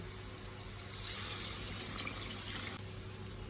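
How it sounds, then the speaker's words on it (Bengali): Sugar and jaggery water poured into cooking mango chutney, a soft rushing splash that swells for about two seconds and then stops, heard alone. "এখন আমি চিনি গুড় ভেজানো জলটা এই আমের মধ্যে দিয়ে দেব"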